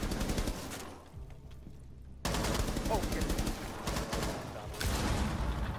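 Rapid automatic gunfire rattles in Rainbow Six Siege, loud bursts of dense shots that pause for about a second before resuming in a sustained volley, with faint talk underneath.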